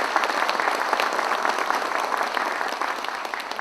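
Audience applause greeting a guest introduced at a university's 88th anniversary ceremony, brisk even clapping from a sizable crowd, steady and fairly close, with no speech over it.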